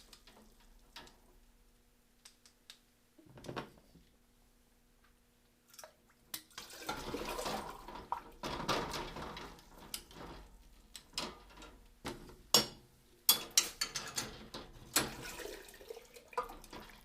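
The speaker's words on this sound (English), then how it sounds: "fill them with water." Water runs and splashes into canning jars being filled for sterilizing, with a few light clinks and drips early on, then bursts of pouring and gurgling that rise and fall, close by and with no talking.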